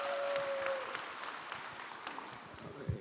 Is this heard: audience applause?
yes